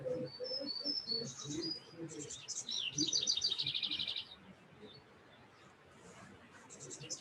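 Small birds chirp and trill in quick bursts throughout, with one rapid warbling run in the middle. The song is faint and comes from some distance, under a soft, low-pitched voice speaking calmly.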